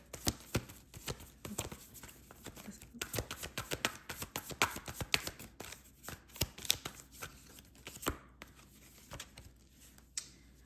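Tarot cards shuffled by hand during a reading, a close run of riffling flicks and soft slaps in uneven bursts, with no talking.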